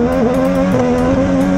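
An IndyCar race car powers out of a tight first-gear hairpin on a Grand Prix street course, its engine a loud, steady, close high-pitched drone that wavers slightly as it pulls through the exit.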